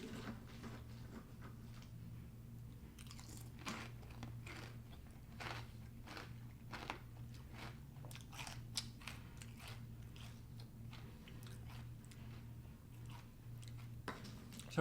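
Steady close crunching of crunchy Cinnamon Toasters cereal being chewed, quick irregular crisp bites repeating throughout at a fairly quiet level with no talk.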